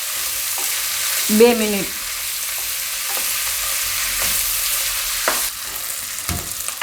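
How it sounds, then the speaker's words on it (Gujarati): Ginger and green chillies fry in hot oil with a steady, even sizzle, broken by a few light scrapes and a brief spoken phrase near the start. "અને આદુ મરચાં નાખી દઈશું. આ બધું આપણે થોડીક વાર પાકવા દઈશું તેલમાં"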